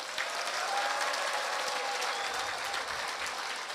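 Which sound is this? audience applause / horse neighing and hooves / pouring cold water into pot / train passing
audience applause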